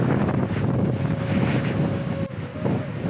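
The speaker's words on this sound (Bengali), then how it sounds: "প্রচুর বাতাস।" Strong wind buffets the microphone outdoors in a flooded village during rainy weather: a loud, continuous, close roar that barely lets up.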